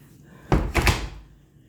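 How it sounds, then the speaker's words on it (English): A kitchen pantry door swings shut with a loud, close thud followed by a second quick knock as it settles, then fades into quiet room tone. "Let me shut my pantry door."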